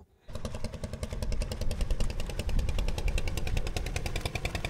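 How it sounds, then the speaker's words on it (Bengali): A loud, rapid engine rattle kicks in suddenly and holds steady, a fast motorboat roaring close by on a river near Goaler Char, Kurigram district, Bangladesh. "অতি দুরন্ত বেগে একটি নৌকা চলে যাচ্ছে"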